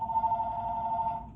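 A phone's message alert, one sustained electronic ringing tone held at a steady pitch for about a second, moderately loud and clear with no talk over it.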